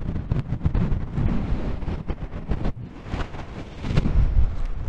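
Strong, gusty wind on the summit of Yellice Mountain in Kütahya roars and buffets the microphone continuously, with heavy low rumble and surging bursts, and no voices.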